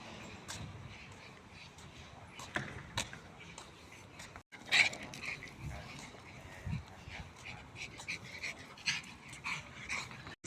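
Dogs play fetch with balls outside a building in Manchester, with close, quick, breathy panting, scampering, and a few sharp bursts of activity, plus faint voices in the background.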